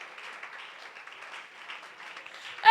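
A church congregation applauding, steady mid-distance clapping that holds evenly for a few seconds before swelling briefly at the end.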